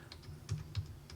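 A few quick, faint keystrokes tap out on a computer keyboard in a quiet room, short clicks spaced unevenly across about a second.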